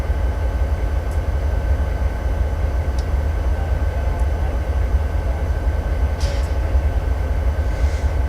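A train runs in the Train Simulator game with a steady low rumble and engine drone throughout, plus a few faint metallic clicks and a brief hiss toward the end.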